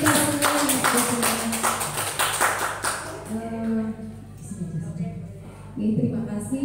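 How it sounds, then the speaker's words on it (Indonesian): A classroom gathering of teachers gives a short burst of applause, rapid clapping for about three seconds that stops abruptly, then a voice continues speaking. "tepuk tangan untuk kita semua"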